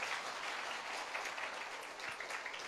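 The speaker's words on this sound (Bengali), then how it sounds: "আরেকবার হাততালি দিয়ে যিশুকে ধন্যবাদ দিই।" A church congregation claps together in steady, dense applause at a Sunday Bengali Christian service, a continuous wash of many hands with no voices rising above it.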